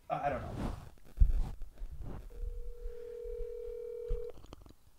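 A phone being dialed to call someone, with a short burst of keypad tones followed by a steady dial tone lasting about two seconds, heard after and under nearby conversation.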